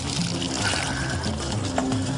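Dirty water poured through a makeshift filter of gravel topped with grass, a continuous close trickle and splash that runs steadily without a break.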